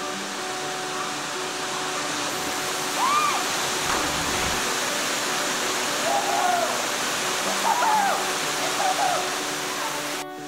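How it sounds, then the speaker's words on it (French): A waterfall in Lebanon roars steadily and evenly for the whole stretch, a loud, wide rushing wash close at hand, with faint bird chirps showing over it now and then. "Nouvelle découverte à Serge Beil aujourd'hui, la cascade."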